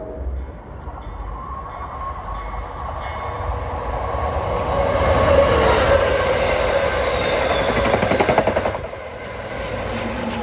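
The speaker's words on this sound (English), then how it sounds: "We got Amtrak 669, New York to Harrisburg overtaking." Amtrak 669, a New York to Harrisburg passenger train, overtakes at speed in New Jersey, a rushing roar that swells to a peak midway with rapid rhythmic wheel clatter near the end before easing, no voices.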